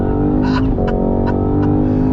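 A 2022 Cadillac CT5-V Blackwing sedan accelerates on throttle, its engine a loud, close, steady droning roar with rising harmonic tones throughout.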